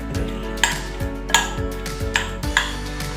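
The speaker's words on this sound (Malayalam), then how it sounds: "ഇതും കൂടി ചേർത്ത് നമുക്ക് നല്ലോണം മിക്സ് ചെയ്യാം" A spoon works soya chunks coated in masala, turmeric and cornflour in a metal bowl, making repeated rhythmic clinks and scrapes, roughly one sharp tap every half second or so, close and clear with no talking.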